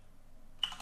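Short burst of typing on a computer keyboard, a quick cluster of clicks near the end after a near-silent stretch.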